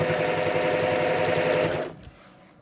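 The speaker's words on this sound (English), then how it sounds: "I want to stitch as close as I can" A sewing machine stitches binding onto a stars-and-swirls quilt with a fast, even mechanical whir that runs steadily for almost two seconds and then stops, leaving near silence.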